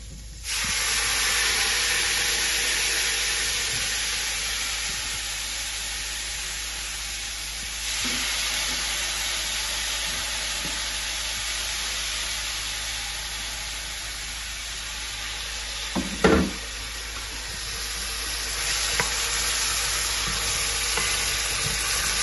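Curry frying in a pan with pumpkin for Caribbean curry shrimp, a loud, steady close sizzle and hiss running throughout, with a brief clatter midway.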